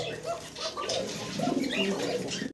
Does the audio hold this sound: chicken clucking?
no